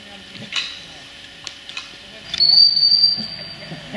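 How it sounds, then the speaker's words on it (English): A distant referee's whistle ending a driven pheasant and partridge shoot sounds as a single sustained high tone about midway through, over outdoor ambience with faint voices and scattered clicks. "there is the whistle for the end of the drive"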